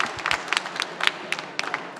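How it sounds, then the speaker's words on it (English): An audience claps after a conference pitch on urban regeneration in London, a modest scattered round of applause with uneven hand claps, fairly close and brief. "can we give him a big clap, please, for an excellent presentation?"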